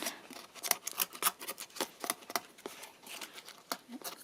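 Scissors trim paper for a handmade cottage-style journal, a series of close, crisp snips in an uneven rhythm with short pauses between cuts.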